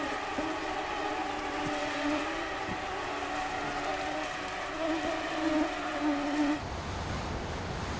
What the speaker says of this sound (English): both the owls and the crew were plagued by mosquitoes